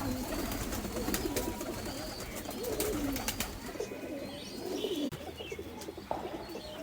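White pigeon chicks coo in a loft, with repeated soft rolling calls, scattered chirps and faint clicks nearby that continue steadily and unaccompanied by talk.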